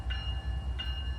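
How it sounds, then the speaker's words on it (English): CN ET-44 and Dash 9 locomotives pull a train forward out of a yard, a steady low rumble of diesel engines running under two short, high horn-like tones. "an ET-44 and a Dash 9 were pulling forward out of the yard"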